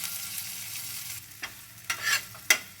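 Ginger and green chili paste hits hot oil with five-spice tempering, giving a soft sizzle under a few clinks and scrapes of stirring that grow sharper toward the end; no voices.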